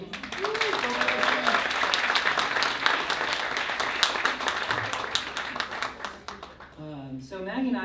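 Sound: audience applause for Maggie

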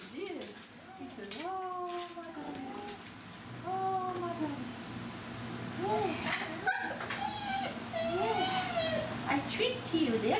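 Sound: other dogs vocalizing, whimpering and barking

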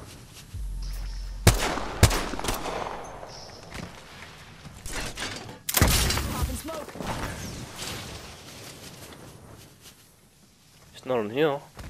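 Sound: gunfire in Apex Legends video game

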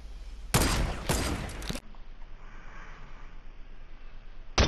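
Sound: gunshots in Fortnite Battle Royale video game

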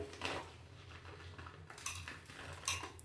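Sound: tablespoon scooping coarse salt

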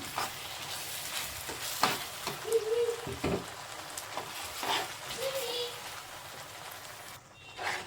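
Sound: ground masala added to pan, frying for paneer egg curry

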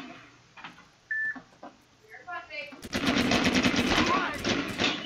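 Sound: semi-automatic gunfire in a video game

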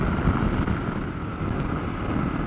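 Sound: wind noise on helmet-mounted camera while riding motorcycle

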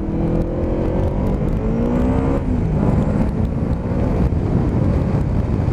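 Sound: Yamaha Vmax motorcycle accelerating

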